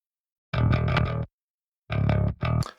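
Clean, dry, unprocessed direct-input bass guitar notes with a round low end, played in two short phrases separated by a brief pause of silence.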